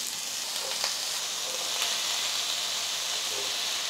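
Brinjal pieces go into a pan of onions frying over medium flame, setting off a bright, even hiss of sizzling oil with a few faint clinks, close and without speech.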